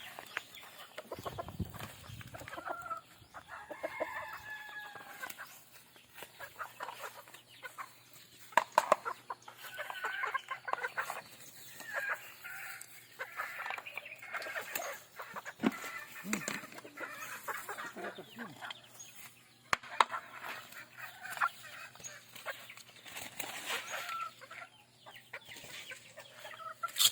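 Chickens cluck steadily throughout, a busy flock of overlapping calls close by, with occasional louder squawks.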